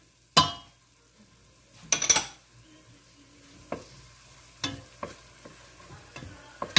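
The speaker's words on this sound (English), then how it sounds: "Sofrito goes in." Sofrito sizzling in a hot pan for a chicken cacciatore, broken by a few sharp bursts of stirring and scraping, then quieter scattered clinks and stirs over a low steady fry.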